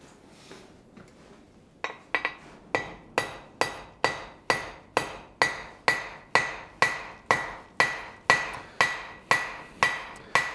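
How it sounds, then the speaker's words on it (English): Hammer forging metal for a leaf keychain: about sixteen sharp, ringing metallic blows in a steady rhythm, close and loud, preceded by a few quieter taps. "Now I'm going to start in the middle, trying to keep the hammer right in the center."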